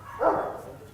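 A dog gives one short bark from a dog at a small private zoo on a farm, a single muffled burst at moderate distance with nothing else around it.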